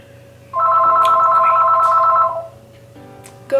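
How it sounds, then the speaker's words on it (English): A house phone rings in one long electronic trill, loud and close, then stops, with a brief start of another ring at the end; no one talks over it. "I'm just gonna let it ring."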